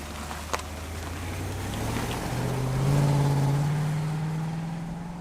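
A 1990s BMW E38 740i executive saloon drives along a Norfolk road, its engine note steadily rising and swelling as it accelerates, then easing slightly, heard close and continuous with road noise beneath and no talking.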